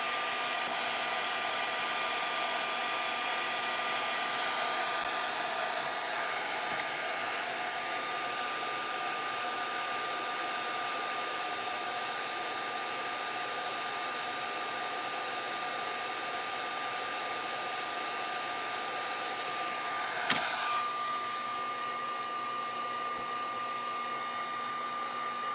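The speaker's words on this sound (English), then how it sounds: "we can take our heat tool to it on the low setting" A heat tool on its low setting dries watercolor shimmer ink. It blows a steady, loud, close whir with an even high hiss that runs unbroken throughout, apart from one faint click near the end.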